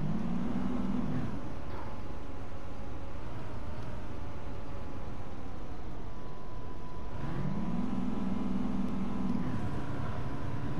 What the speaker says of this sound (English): This bus has some power, I think. Sounds great.